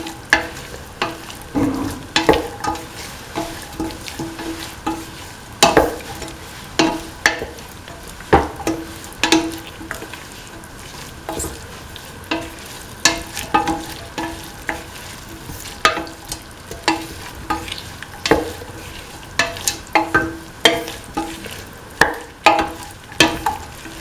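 Beef and green peas fry in a pan while a spoon stirs them, with steady close sizzling and many sharp scraping knocks that repeat throughout.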